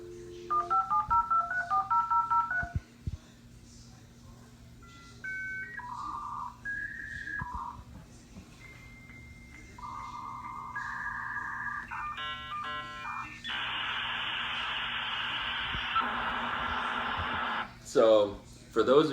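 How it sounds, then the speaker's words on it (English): An old AOL-type dial-up modem connecting: a run of touch-tone dialing beeps, then shifting carrier whistles and warbles, ending in a loud, steady hissing handshake screech with a few final crackles. "So basically what that is it's called a dial-up modem."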